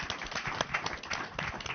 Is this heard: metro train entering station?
no